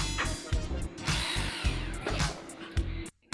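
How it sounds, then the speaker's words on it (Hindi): A power drill bores a hole for a 10 mm fastener during wire hanger installation, running in short repeated bursts with brief pauses and a sudden stop near the end. "10 mm का फास्टनर ये ड्रिल हो गया 16 नोट से।"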